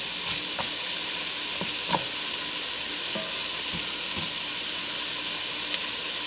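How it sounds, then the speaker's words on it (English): Vegetables simmering in a pot for Japanese curry, giving a steady bubbling hiss broken by soft pops and an occasional light clink, constant and close throughout with no voices. "let them simmer for about 4 minutes, just to soften them a little bit."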